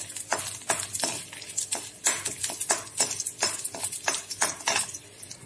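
Dry whole red chillies frying in oil in a kadai, with a metal spatula scraping and clinking against the pan in a steady rhythm of sharp strokes, close and fairly loud.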